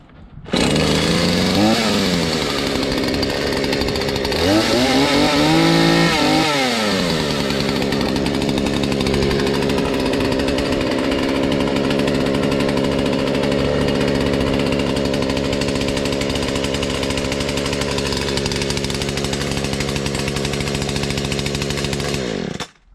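A Husqvarna 235 chainsaw, fitted with a new carburetor, starts after priming on full choke. It revs sharply twice early on, then settles into a loud, steady running buzz outdoors. No one speaks.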